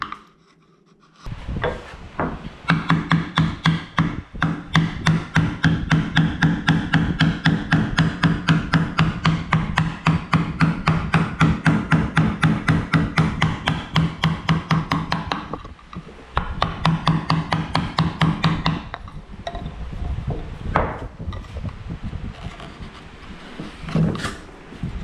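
Rapid, steady hammer taps drive a gouge into a live oak spoon blank, a close, loud woody knocking that runs for about fifteen seconds, pauses briefly, then resumes with another burst before tapering into scattered softer taps.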